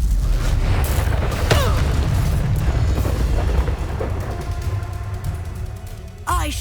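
A Confringo blasting spell from the Hogwarts Legacy video game erupts in a loud, sustained rumbling boom that fills the clip, with brief shouting voices over the blast.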